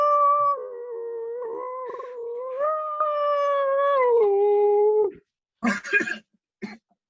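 A human voice imitates a whale call with a long, wavering, tonal moan that rises and falls for about five seconds, followed by brief rough throat-clearing sounds.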